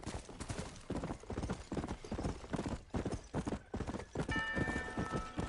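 Rapid clip-clopping of horse hooves in the video game Red Dead Redemption: Undead Nightmare, close and rhythmic, with a faint whinny and a tonal chime near the end.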